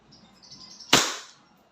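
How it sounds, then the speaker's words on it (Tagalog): A single sharp shot from a WE 2011 Hi-Capa T-REX airsoft pistol, a crisp snapping crack close by with a brief decay, preceded by a faint whine. "First test. Firing."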